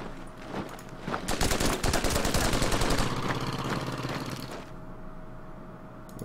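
Gunfire rains on snipers in the wartime strategy game Order of Battle, set along Burma's Irrawaddy River, as a rapid machine-gun rattle swells into a dense, loud burst lasting a few seconds before fading to quiet.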